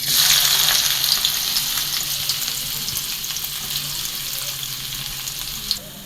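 Onion frying in oil in a wok, a loud, dense sizzle that starts strong and holds steady, easing slightly, with a single small clink near the end.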